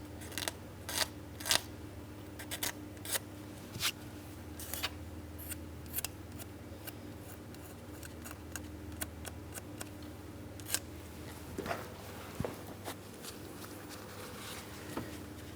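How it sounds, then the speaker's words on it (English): A plastic flat-blade scraper clears old gasket residue from around the valve cover ports of a 2003-2007 Cadillac CTS 3.6L V6. Short, sharp scraping clicks come in irregular bursts over a quiet background. "I'm using my plastic flat blade eraser. We'll scrape out and away from the ports."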